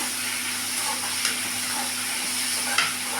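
Radish sautés in a pan for sambar with a steady, soft sizzle and hiss, close and continuous, broken by a couple of faint stirring scrapes.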